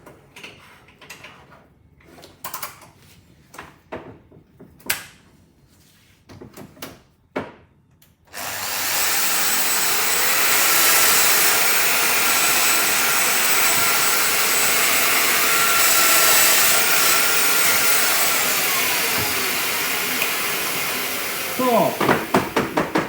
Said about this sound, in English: Use a dust extractor.